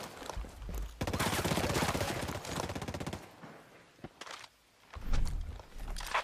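Rapid bursts of automatic gunfire crackle through a Ghost Recon Breakpoint firefight, a dense stretch of shots running for several seconds before thinning to scattered reports and a final loud burst.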